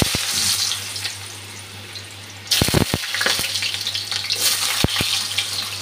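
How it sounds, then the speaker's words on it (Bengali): Potato pieces fry in a pan with a steady, loud sizzle, and a few sharp clatters of stirring and utensils sound near the middle. "আলুটা ভেজে নিচ্ছি আগে।"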